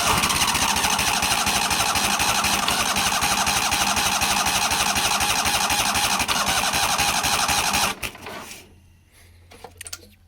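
A neglected 1998 Yazoo YTKC22 three-wheel mower engine fires and runs loudly and steadily for about eight seconds, then cuts out abruptly, leaving quiet rustles and faint handling noises.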